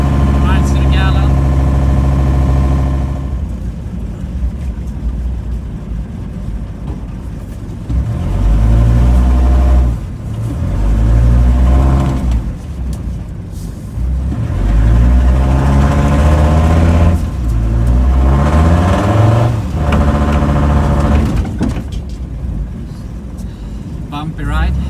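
A Dodge Ramcharger with a five-cylinder diesel engine drives along, its loud, steady diesel rumble rising and falling with throttle over about 25 seconds.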